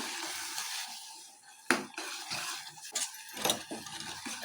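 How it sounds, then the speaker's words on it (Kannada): A spoon stirs hayagriva mixture with milk in a pan over a low flame, giving soft scraping and occasional sharp clinks of utensil against metal, quiet and close with a faint sizzle beneath. "ಹಾಲು ಹಾಕಿ ಚೆನ್ನಾಗಿ ಸ್ವಲ್ಪ ಇನ್ನೂ ಸ್ವಲ್ಪ ಫ್ರೈ ಆಗಬೇಕದು ಚೆನ್ನಾಗಿ ಫ್ರೈ ಆಗಲಿ"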